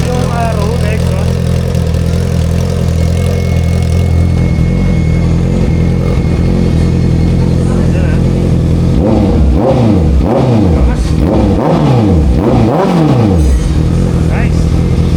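A 2025 Honda CBR650R with an Arrow aftermarket exhaust idles steadily, then from about nine seconds blips through a series of sharp, loud revs that rise and fall in quick succession.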